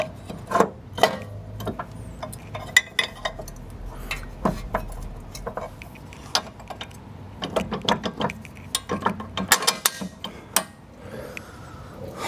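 A ratchet tightens nuts and bolts during a restoration of a 36-year-old Foxbody Mustang, giving bursts of quick metallic clicks mixed with clanks of tools and parts, close and clear.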